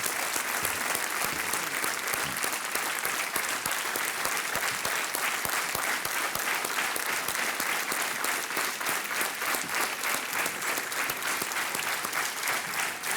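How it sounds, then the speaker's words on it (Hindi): A studio audience on the KBC game show breaks into sustained, dense applause as guests Sonali Mukherjee and Lara Datta Bhupathi are welcomed on stage, steady and loud throughout with no voices over it. "तालियों के साथ इनका स्वागत कीजिए।"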